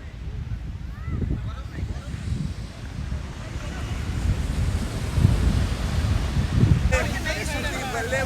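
Sea waves and wind at Dublagadi beach in Odisha in winter, a broad continuous roar of surf with gusty wind buffeting the microphone and swells rising midway, plus a brief voice near the end.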